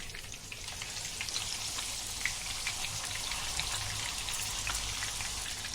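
Surmai fish sizzles in a frying pan over medium heat, a close, continuous spitting crackle with small pops scattered throughout and no voices.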